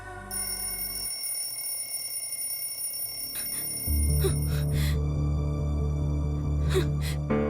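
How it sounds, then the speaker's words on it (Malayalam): A steady electronic ringing tone sounds throughout, joined partway by a louder low hum, with brief bursts of higher noise. "അലാറം അടിച്ചു. എനിക്കിപ്പോ തന്നെ പോണം."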